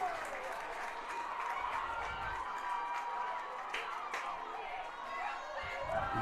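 A soccer crowd at a Salve Regina University men's match cheers a goal with steady applause and scattered shouts from the stands, while a commentator talks over it.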